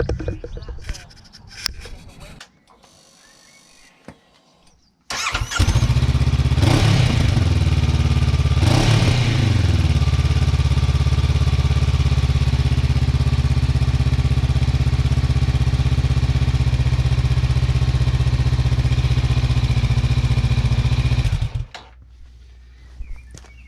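A Honda CB500X with an aftermarket GRmoto exhaust, still leaking slightly at a bracket, fires up and runs loud and steady close by for about fifteen seconds, with a couple of throttle blips early on, then cuts off to quieter background.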